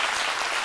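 A studio audience on a midday French-language TV talk show breaks into dense, steady applause, loud and close, with no talk over it.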